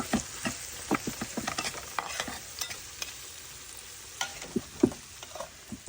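Onion frying in oil for tempering a dish of mustard greens with prawns, a continuous sizzle broken by frequent scraping stir strokes and clicks from the spatula, close and without any talk.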